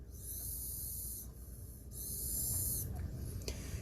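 Air blown through the nozzle of an iRobot M6 robot vacuum, two sustained airy hissing bursts, close and moderately loud, followed by a few faint clicks.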